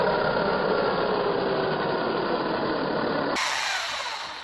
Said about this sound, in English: This is Flex VRG. What it is, it's a dual action with forced rotary motion.